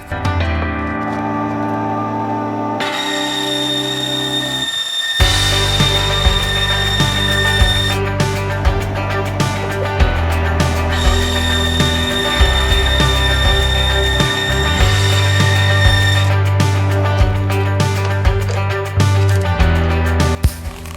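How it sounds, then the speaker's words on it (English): Bandsaw cutting wood blanks for knife scales in a workshop, a loud whining motor with sustained cutting passes that start and stop, close and alone with no talk. "So we'll go over to the bandsaw, we'll cut these real quick."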